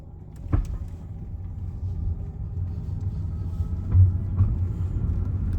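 A car pulls away during a driving lesson in Leeds, its engine a steady low rumble that holds level throughout, with a couple of faint knocks from inside the cabin.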